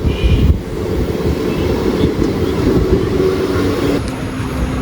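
Tirunelveli Jamnagar Express running, heard from inside a sleeper class coach: a loud, continuous rumble and rattle of the carriage on the rails, steady throughout with no talking.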